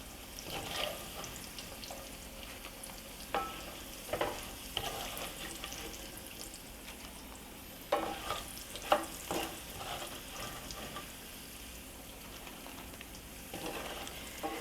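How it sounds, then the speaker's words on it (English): Smoked sausage and sauerkraut fry in a pan alongside potatoes, giving a steady soft sizzle with intermittent stirring and scraping clatters throughout, fairly quiet and close with no talking. "I'm going to fry up my winnies and put my kraut in."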